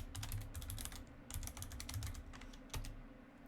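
Close computer keyboard typing as a user name is entered, a fast, uneven run of crisp key clicks with short pauses over a faint steady hum, and nobody speaking.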